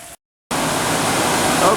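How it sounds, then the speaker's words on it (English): A wood-fired maple sap boiler at a Vermont sugarhouse roars with a steady, loud, broadband rush like rushing water, starting abruptly after a brief silence and holding constant. "Okay, we are fired up, and that is the sound of the boiler heating."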